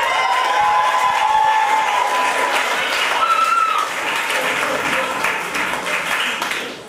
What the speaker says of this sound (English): So how about another round of applause for tonight's tech staff?